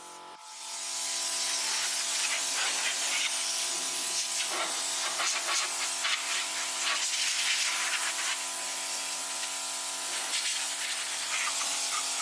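Color-matched rattle-can spray paint misting onto car parts in a continuous, fairly loud hiss that holds steady for several seconds with slight pulsing, and no talking.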